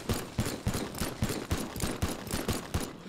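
Rapid gunfire in the video game Teardown during a floor-is-lava mod: about a dozen loud, evenly spaced shots in a steady rhythm, close and sharp, with no talking.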